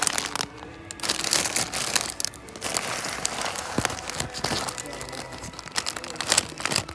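A plastic sheet of stickers crinkles and crackles steadily up close, with dense irregular rustling for several seconds in a discount store.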